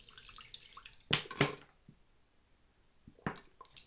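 Water jet spraying from a homemade bidet nozzle made by squeezing a plastic tube narrow and taping it, heard as two close splashy bursts near the start and another burst toward the end, with quiet gaps between.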